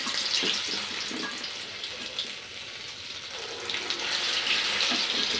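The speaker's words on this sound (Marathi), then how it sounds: "मीडियम फ्लेमवरच वडे तळायचे आहे" Dahi vada batter drops into hot oil over a medium flame and fries with a continuous, fairly quiet bubbling sizzle, with no talking.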